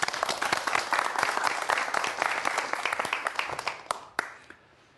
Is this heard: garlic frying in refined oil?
no